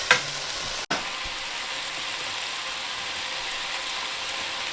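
Swiss chard sizzles steadily in a hot pan while bamboo forks stir it, giving a constant loud frying hiss with a brief scrape of movement near the start.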